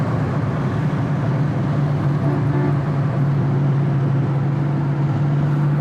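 A 1967 Pontiac GTO engine pulls in third gear at around 80 mph, heard from inside as a steady, loud low drone with constant road and wind noise, without speech.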